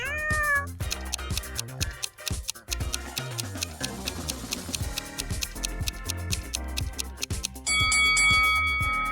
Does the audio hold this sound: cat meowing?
yes